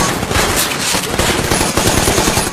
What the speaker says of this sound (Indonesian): tiba-tiba mendengar tembakan berbunyi keras dari salah satu marinir yang sedang berjaga